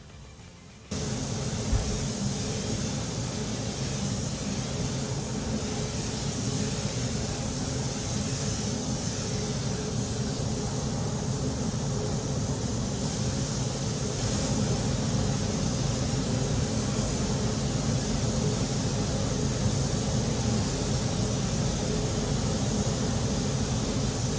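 A steady, continuous spray hiss from spray painting Ford Escort car doors runs for the whole stretch with a low background hum, unbroken and fairly close.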